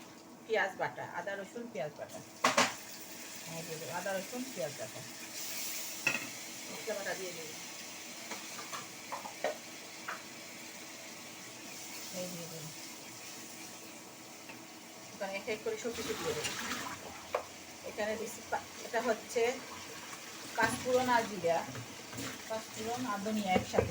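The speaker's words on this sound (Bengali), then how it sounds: "পেঁয়াজগুলো একটু বাজা বাজা হয়ে গেছে এখন দিয়ে দেব আদা রসুন" Onions frying in a pan with ginger and garlic added, a soft sizzle and occasional stirring scrapes running under someone talking through most of the stretch.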